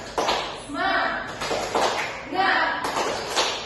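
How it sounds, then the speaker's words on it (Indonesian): A group of children and an adult perform the tepuk semangat clap routine, sharp rhythmic hand claps grouped in short bursts, close and fairly loud, with chanting voices running over and between the claps. "Tepuk semangat"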